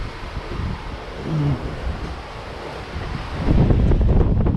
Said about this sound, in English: It's gusting, but nothing terrible.